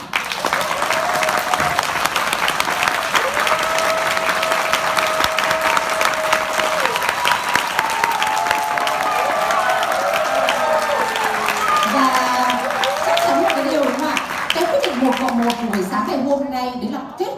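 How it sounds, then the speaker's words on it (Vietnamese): A seminar audience fills the room with steady, sustained applause, the dense clapping continuing throughout while a voice speaks faintly over it and music tones rise in the background. "các anh chị hãy giúp Thủy dành một tràng vỗ tay thật lớn không ạ?"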